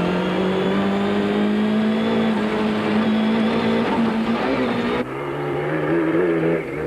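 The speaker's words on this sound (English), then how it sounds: "Race cam action is from the Kutsia Leek Toyota at high speed through the streets of Vepenar" A Toyota rally car races at high speed through the streets of Vepenar in the 1992 Caledon 500, its engine roaring loud and close with a steady high whine, then a sudden drop in pitch as it shifts gear.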